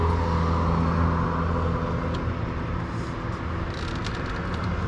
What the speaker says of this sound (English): Oh, now we got a truck.